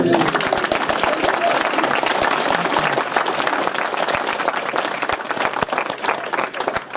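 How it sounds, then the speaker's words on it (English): A lecture audience at a humanist society talk breaks into sustained, dense applause, steady and loud throughout with no speech over it. "will you also please give a huge round of applause to Lynn Glass, who's organised today."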